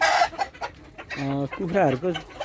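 Sonali breed hens cluck nearby in a short burst, with a drawn-out, wavering call toward the end.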